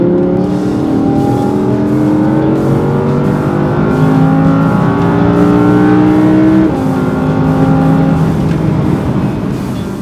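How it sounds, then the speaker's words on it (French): Audi R8 V10 Plus, a 5.2-litre naturally aspirated V10, heard from inside the cabin while driving: a steady loud engine drone with rising and falling harmonic whine as revs change, no talk. "lorsque l'on commence à rouler avec l'Audi R8 V10, ça devient un miaulement que l'on entend perpétuellement dans l'habitacle, celui évidemment du V10"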